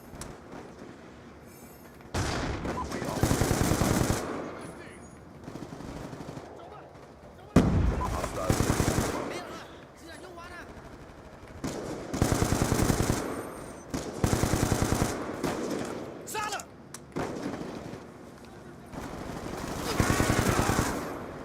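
Rapid automatic gunfire in a Call of Duty match comes in loud repeated bursts of a few seconds each, with short quieter gaps between them, close and dominant over faint background game sounds.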